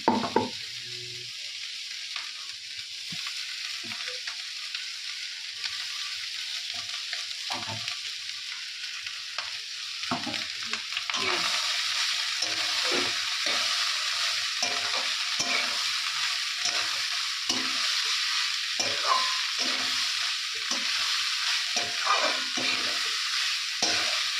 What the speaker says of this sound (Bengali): আমার এই সবজিগুলো সব ভাজা হয়ে গেছে এখন তো আমি এখন ভাতগুলো দিয়ে দেবো